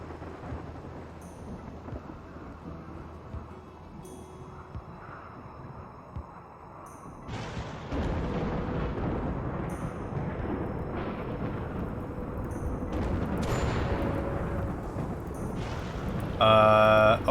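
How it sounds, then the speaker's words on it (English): Dry thunderstorm thunder in the video game RimWorld, a deep rolling rumble that swells in loudness partway through and keeps building in long, low waves, with brief game interface tones sounding over it. "Oh, it's a dry thunderstorm."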